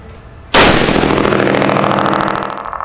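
A single .308 rifle shot fired through an AAC Breakout muzzle brake, one sharp, loud, close blast followed by a long, ringing decay.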